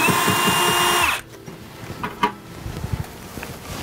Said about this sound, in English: So just disconnect these screws here.